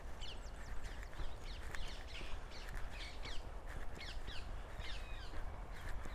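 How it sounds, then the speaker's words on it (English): Many birds call at once in London, with harsh cawing and chattering over a constant low rumble of passing trams and outdoor noise, steady throughout. "just listen to all the birds and the trams passing"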